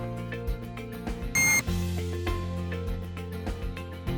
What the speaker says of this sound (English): Then rotate vertically clockwise to hear another beep.